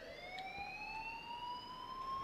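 A fire alarm blaring through a school in the game Life is Strange, a steady wailing electronic tone that rises gradually in pitch, with bright harmonics, sounding continuously and loud for the whole stretch without any voices.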